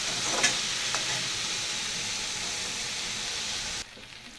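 Chopped tomatoes sizzle steadily in a hot frying pan, a dense close crackle with a couple of quick stirring scrapes near the start, cutting off abruptly just before the end.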